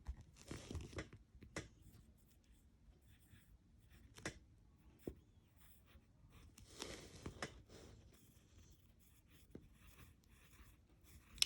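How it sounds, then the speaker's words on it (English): Pen or pencil writing an answer on paper during a worksheet quiz, scratchy strokes in scattered short bursts with quiet gaps between, close and fairly faint. "So we're going to write half moon over here."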